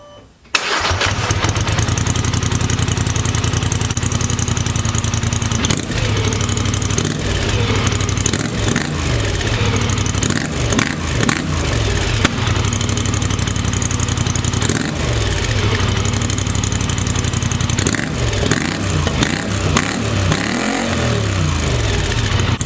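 An 850 four-wheeler ATV with its stock exhaust cranks and catches, then idles and revs repeatedly in loud, close bursts, with no talking.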